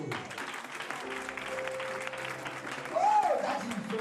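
A church congregation applauding and cheering for Jesus, a steady wash of clapping with a voice calling out over it and a swell near the end.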